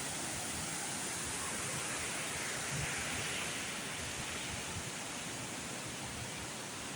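Antong Falls waterfall in Sison, Pangasinan, rushing as a steady, dense broadband roar that holds at a constant level throughout, with no talk over it.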